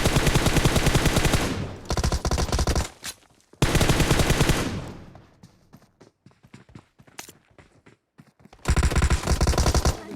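Loud automatic gunfire from the battle royale game BGMI comes in rapid bursts at the start, around the middle and at the end, with quieter scattered shots and footstep-like taps between the bursts.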